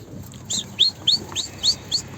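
A wild bird outdoors gives a series of six short, bright, downward-sweeping chirps at a steady pace, fairly clear against a low background rumble, with no talking.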